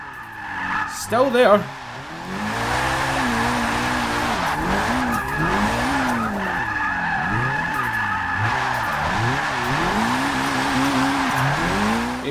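Mitsubishi Evo IX MR drift build in Forza 6, converted to rear-wheel drive, sliding sideways with a sustained tire squeal over a wavering engine note, steady and loud throughout, with someone talking briefly near the start.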